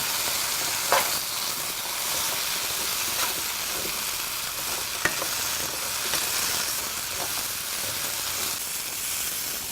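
Pumpkin pieces frying in a pan for a beef and cashew curry, giving a steady, fairly quiet sizzle and hiss throughout with a few brief sharper crackles and stirring clicks, and no talking.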